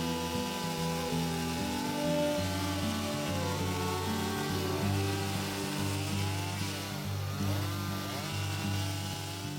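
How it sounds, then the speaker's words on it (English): A chainsaw carves red cedar, its engine revving up and down in a loud, continuous snarl close by, with no voices. "Now I love the chainsaw carving"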